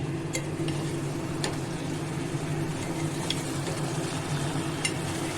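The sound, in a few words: stirring vegetable curry with a spatula in a pan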